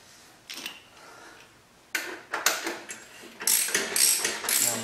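A ratchet loosens the rear axle nut on a Honda Shadow VT750 ACE motorcycle, giving a few close, crisp bursts of rapid clicking separated by short pauses.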